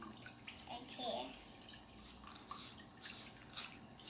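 Water in a bath while toys are scrubbed: soft sloshing and drips under the talk of an adult and a child, with a few brighter splashes early on and scattered light taps throughout.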